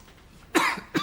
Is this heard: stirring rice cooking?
no